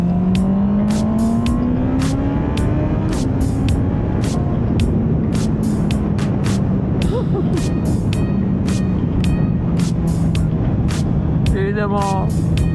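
A Honda CB650R motorcycle rides along a forest track, its engine droning steadily and rising and falling as it accelerates, with continuous wind and road rumble and sharp repeated clicks over the top.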